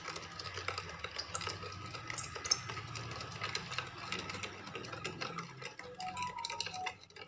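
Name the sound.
mixing lassi drink of curd and fruits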